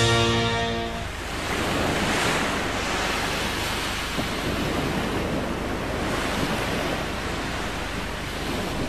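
Ocean surf in a Beyblade Metal Masters anime episode, a continuous broad wash of breaking waves with wind, steady and full throughout after a brief musical tail at the start.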